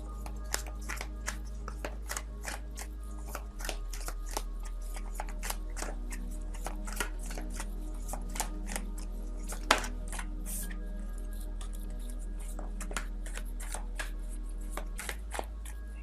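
A deck of tarot cards is shuffled steadily up close, with a continuous stream of soft crisp card riffles and flicks running throughout, over a low steady background hum and no talking.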